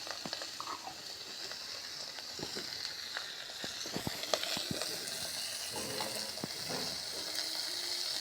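Garlic, ginger and cumin paste added to chopped onions sizzling in a frying pan, a soft continuous hiss with occasional stirring clicks, close but quiet.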